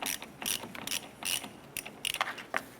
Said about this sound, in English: Using a 13mm socket, go ahead and remove our ground terminal nut here.